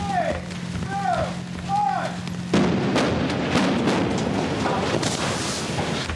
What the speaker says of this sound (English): There's 4 ignitions in these open doorways. They're all subsonic explosions